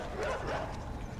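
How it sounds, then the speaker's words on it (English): In the video game INSIDE, dogs bark in a short, muffled burst of a few yapping barks over a low background rumble. "Oh, dogs, eh?"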